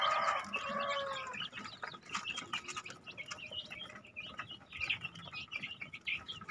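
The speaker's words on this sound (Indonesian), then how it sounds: "Ini anakan ayam dari 3 indukan dijadikan 1." Chicks and hens in a simple breeding coop on a chicken farm, with high peeping chirps and soft clucks scattered throughout, close and fairly quiet.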